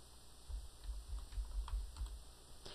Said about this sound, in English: type WordPad.